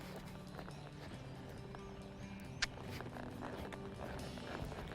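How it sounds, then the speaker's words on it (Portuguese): A ridden horse being asked to gallop, its hoofbeats a soft, steady clip-clop under a constant outdoor background hum, with one brief sharper knock midway. "Então vou pedir para ele galopar."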